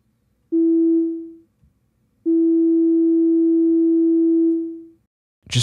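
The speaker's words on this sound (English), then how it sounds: "when we have this sine wave" Pure synthesizer sine wave tone with just the fundamental, played as two sustained notes, the second held longer, each fading out, loud and clean against near silence.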